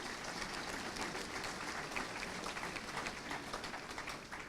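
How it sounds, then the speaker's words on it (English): An audience claps continuously in a dense, even patter of applause that stays steady from start to finish, heard a little distant. "let us give her a round of applause"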